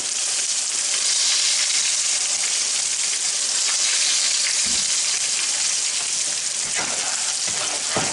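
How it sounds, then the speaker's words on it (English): Cube steak fries in hot grease with a steady, close, loud sizzle and crackle, unbroken throughout. "Have my cube steak cooking."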